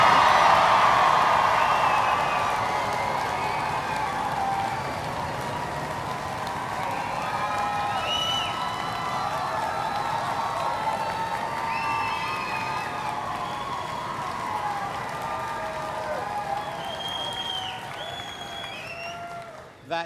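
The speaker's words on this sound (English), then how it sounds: "make as much noise as you possibly can. Stamp your feet. Cheer, raise the roof." Graduation ceremony audience cheering, whooping and clapping in a large hall, a loud sustained roar of many voices with scattered shouts lasting throughout.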